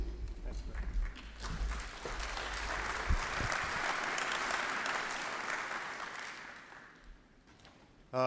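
An audience at a conference opening ceremony gives a round of applause, a broad, sustained wash of many hands that swells, holds, and fades out near the end.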